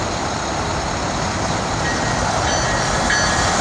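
TriRail commuter train hauled by a new Hyundai locomotive passing at 12th Avenue South on the CSX Miami subdivision, a loud, close, continuous rumble and rush of wheels on rail with no horn.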